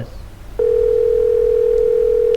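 A smartphone call dial tone from the horror game Evil Inside begins abruptly after a short quiet stretch and holds as one loud, steady, unbroken tone.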